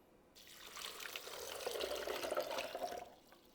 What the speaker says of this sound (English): I'm adding 3 cups of water.